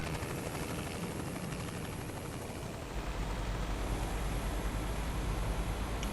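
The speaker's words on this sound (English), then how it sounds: "there's a chopper flying right overhead" Rotor thumping and a dense engine roar from a helicopter passing overhead in Euro Truck Simulator 2, loud and continuous, with a deep low rumble swelling in partway through; nobody speaks.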